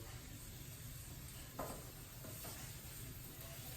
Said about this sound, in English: It's got a nice sizzle going to it,